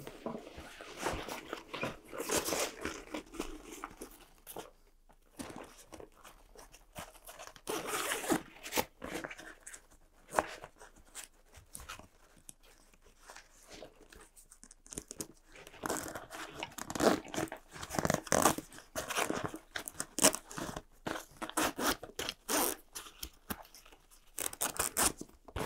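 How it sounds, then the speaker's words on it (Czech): Zippers on an Eberlestock F1 Mainframe military pack are worked open and shut up close, giving repeated rasping zip bursts of varying length separated by short pauses and handling noise. "táhlo jezdce zipu je opatřené háčkem, takže je možné zipy zajistit proti nechtěnému otevření"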